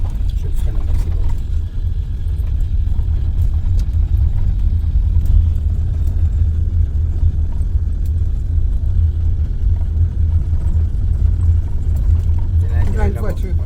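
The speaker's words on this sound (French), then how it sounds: "Plein de voitures." Road traffic rumbles steadily as many cars drive by, a loud continuous low engine and tire drone with a voice speaking over it.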